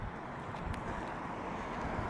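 Outdoor wind on a warm day with a cool breeze, rushing in a steady broadband roar against the microphone for the whole stretch, with no talking.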